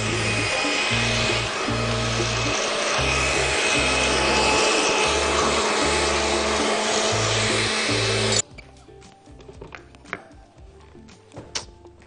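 A blender whirs loudly and steadily while blending arugula and avocado juice, with a pulsing low rumble beneath, then cuts off abruptly after about eight seconds, leaving quiet clinks and faint handling sounds.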